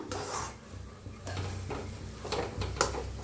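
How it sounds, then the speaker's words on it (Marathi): Food being mixed in a pan over a low gas flame, with soft, repeated spoon scrapes and clinks, close but quiet, and no one talking. "थोडासा गॅस खाली लावलेला आहे आता मिक्स करताना, बारीक एकदम."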